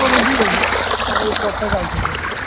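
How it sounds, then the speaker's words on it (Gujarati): Water from a leaking pipe gushes and trickles steadily once the supply is turned on, a continuous close splashing wash with no break. "તમે જોઈ શકો છો એ બધું પાણી ચાલુ થઈ ગયું"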